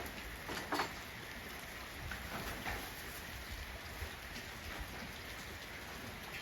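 Steady rain hisses evenly throughout, soft and continuous, with a few faint louder patters, falling where a young elephant plays.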